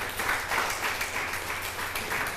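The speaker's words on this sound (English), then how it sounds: "Please give him a round of applause." An audience applauds a judge being introduced at an African reality TV reading competition, producing a steady, dense wash of clapping that holds at an even level throughout.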